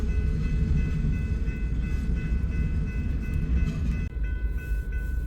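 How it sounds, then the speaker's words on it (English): A westbound empty coal train rolls into Hobson Yard in Lincoln, Nebraska at night, giving a steady, loud rumble of rail cars with a faint horn-like tone above it and a brief dip near the end. "we got a westbound empty coal drag coming in"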